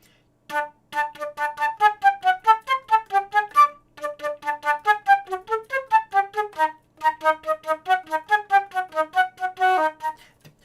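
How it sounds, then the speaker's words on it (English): Rapid, evenly tongued wind-instrument notes without breath, each a short dry pitched pulse in quick rhythmic runs, close and fairly quiet, with a brief pause midway. "if you just use the tongue to articulate the sound with no air, it sounds something like this"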